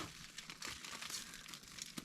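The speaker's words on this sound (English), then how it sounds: "And I am just using this nice shrink wrap." Shrink wrap plastic crinkles and rustles continuously while an item is wrapped for shipping, close up with steady crackling texture and no talk.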